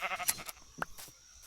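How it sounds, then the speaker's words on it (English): Sheep in Minecraft Bedrock Edition giving a couple of short, faint bleats separated by quiet gaps, with no talk over them. "Oh, there's a sheep."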